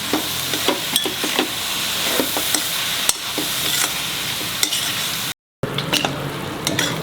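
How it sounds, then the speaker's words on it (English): Ridge gourd sizzles in a pan while a utensil stirs and scrapes it in irregular strokes, a close and steady frying hiss with a brief cut of silence near the end. "we shall cover it and cook it. Let it cook for 5 minutes on a medium low flame."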